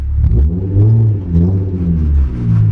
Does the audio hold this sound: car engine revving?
yes